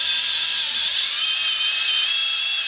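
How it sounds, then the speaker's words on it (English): A power drill spins a shaft in place of the removed distributor to prime engine oil during a rebuild, giving a steady high-pitched whine that runs unbroken and close, with no talking. "We've got the drill in here, the distributor removed."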